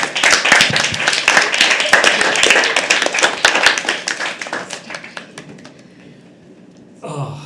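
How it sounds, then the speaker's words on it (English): Audience at a live poetry open mic breaks into loud, sustained applause with dense clapping that gradually thins and fades out, followed by a brief voice at the very end. "Can you please have a round of applause for her?"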